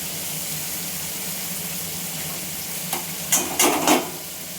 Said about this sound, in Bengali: এবার একটু নাড়াচাড়া করে নেব, মাথাটা ভেজে নেব ভালো করে